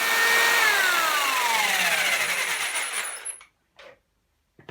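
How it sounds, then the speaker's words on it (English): A power jigsaw cuts loudly and steadily through a panel for an arcade joystick, its whining motor pitch sliding downward for about three seconds before cutting off, then a couple of faint knocks. "So we use my jigsaw and we'll cut this bit out."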